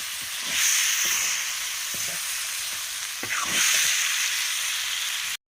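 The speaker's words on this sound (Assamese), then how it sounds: "এতিয়া এইখিনি মাংসখিনি ভালদৰে ফ্ৰাই হ'বলৈ আৰু অলপমান সিজিবৰ কাৰণে মই অকণমান ঢাকনি লগাই দিছোঁ" Chicken pieces, spiced with garam masala and red chilli powder, sizzle and fry steadily in a lidded pan over a fire, a continuous close hiss with occasional stirring clatter and brief surges, no voices.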